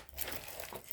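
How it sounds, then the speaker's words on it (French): Transparent plastic film over an item is handled, giving a close, continuous crinkling and crackling for about a second with no talk. "C'est simplement le plastique au-dessus. La feuille transparente."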